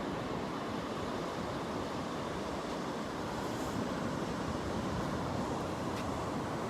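Surf breaks continuously along the beach at 1st Ave, Pawleys Island, South Carolina, at sunrise, a steady roaring wash of waves with some wind noise on the microphone and no talking.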